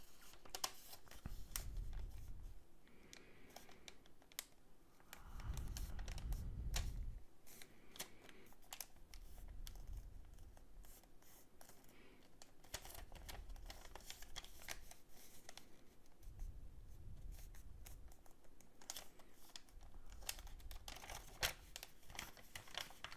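Paper crinkles and rustles softly as it is folded into an origami bunny balloon, with faint, irregular creasing sounds and occasional low handling thumps, close and quiet.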